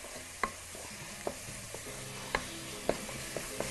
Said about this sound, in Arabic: بصوا كده تشويحه حلوه